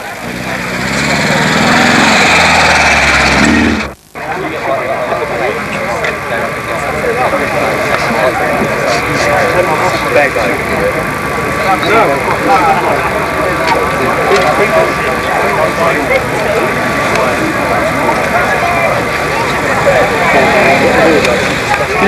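A 1979 MGB Roadster is driven round at an outdoor MG owners club event at Knebworth, its engine a steady buzzing drone that follows a short louder burst and sharp cutoff. An announcer talks over the engine throughout.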